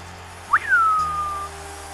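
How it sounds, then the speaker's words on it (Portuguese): A single whistle during a WWE 2K15 gaming session: a quick upward chirp, then a long, steady tone that slowly falls. It is picked up clearly by the microphone over faint background game sound, with no talking. "Esse mesmo microfone é uma doença para apanhar os assobios."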